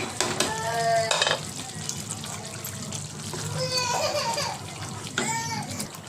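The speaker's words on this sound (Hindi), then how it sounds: "देखिए हमारा मसाला अच्छे से भुनने आया। 2 मिनट के लिए और अच्छे से भून लेंगे।" Masala with crushed roasted cumin and kasuri methi frying in a pan for lotus seed curry, a steady sizzle with spoon stirring, while a person talks over it in spots.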